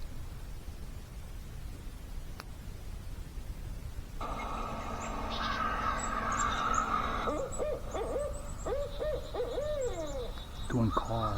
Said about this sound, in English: There's an owl right over here.